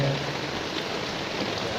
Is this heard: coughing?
no